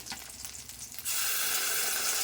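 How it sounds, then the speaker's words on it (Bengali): Spice paste hits hot oil in a pan where fish was just fried, bursting into a loud, steady sizzle after a second of quieter frying crackle. "তেলেতেই মশলাটা দিয়ে দিলাম।"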